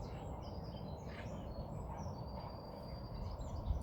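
Birds chirp faintly outdoors in nature, scattered calls sitting above a steady, dense wash of wind and rustling foliage that continues throughout.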